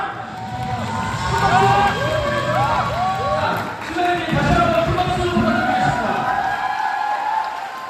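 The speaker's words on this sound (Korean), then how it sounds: "입장할 때 아낌없는 축복의 박수와 함성 부탁드립니다" Guests at a Korean wedding hall cheer, whoop and clap as the groom makes his entrance, a loud, steady crowd roar with excited voices throughout.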